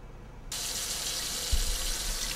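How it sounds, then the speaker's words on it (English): Hot water gushes steadily from a kitchen tap into the sink. It starts abruptly after a short quiet moment and then runs as a constant hiss, with a brief low thump partway through. "I'm turning on the hot water"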